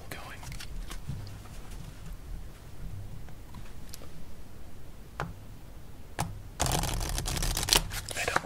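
A deck of playing cards is shuffled during a game of solitaire, with soft scattered ticks and flicks followed by a louder, denser riffle near the end, close and quiet, with light talking.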